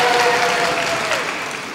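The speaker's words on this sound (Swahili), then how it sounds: "Mpigieni makofi mgeni rasmi." Audience applause for a guest of honour at a public gathering, a steady dense wash of clapping from a crowd throughout, with a faint tonal whine running beneath it.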